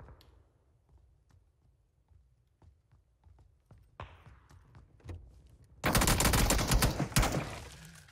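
Video game gunfire from a firing squad: quiet scattered clicks and footsteps first, then a sudden loud burst of overlapping shots lasting about two seconds.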